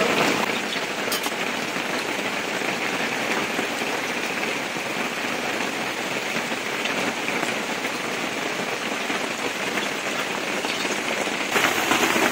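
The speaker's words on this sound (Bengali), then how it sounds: "দেখেন কিভাবে বৃষ্টি হচ্ছে, বৃষ্টির শব্দ কত" Heavy rain falling outside, a dense continuous patter and hiss on surfaces lasting throughout, fairly loud and steady with no voices.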